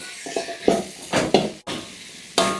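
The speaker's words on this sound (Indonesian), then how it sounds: "Kita tumis sebentar." Bilimbi sautéing in a pan for patin fish asam pedas, with several sharp spatula scrapes and stirring bursts over a soft sizzle, close and moderately loud.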